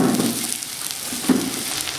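Continuous sizzle of chopped shallots frying in hot oil, a steady hiss with faint crackles and one brief louder scrape.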